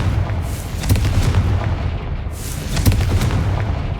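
Confringo blasting spell in Hogwarts Legacy, heavy booming blasts with a deep rumbling low end, two main detonations a couple of seconds apart amid continuous rumble, loud and close.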